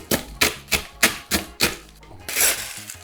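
A scoop digging into a massive bin of pebble ice from a pebble ice machine, giving six crunchy, evenly spaced scrapes followed by a longer rattling pour, close and crisp.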